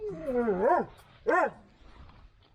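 A dog in a garage gives a drawn-out whining bark followed by a shorter yip, both close and clear, with quiet room noise after.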